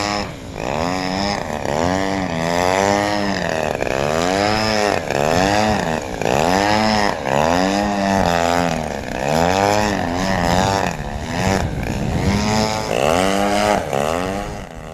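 RC 3D helicopter engine with the throttle constantly rising and falling during aerobatic maneuvers, a loud buzzing whine that swoops up and down in pitch in a steady repeating rhythm.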